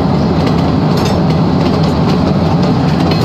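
Passenger train pulling into a station in Cities Skylines II, a loud steady rumble of rolling wheels and engine with a faint clickety rhythm, continuous and close, with no voices.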